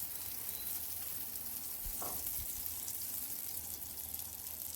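Oats omelette batter sizzling in olive oil on a hot tawa, a steady broadband frying hiss throughout with a brief scrape or clatter near the middle.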